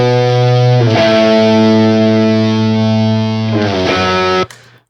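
A distorted electric guitar run through Marshall amp simulators rings out in sustained, gnarly, fizzy chords, loud and alone, changing chord twice before cutting off sharply.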